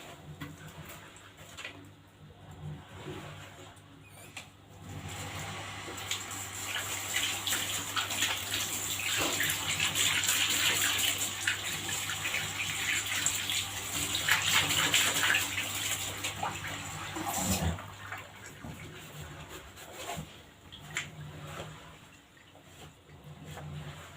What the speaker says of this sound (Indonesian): sekarang kita masuk ke proses pembilasan ya.